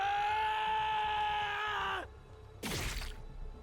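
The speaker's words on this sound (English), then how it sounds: "It all came rushing out as a bestial scream." A character in The Hundred Line video game lets out a loud, sustained bestial rage scream for about two seconds that cuts off abruptly, followed by a short harsh slashing burst.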